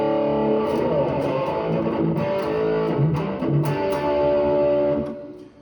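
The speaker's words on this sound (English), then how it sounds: "I got this other track that's got crazy reverb on it" Electric guitar notes ring out through heavy, washy reverb, sustained chords blurring into a long shimmering tail that fades at the end.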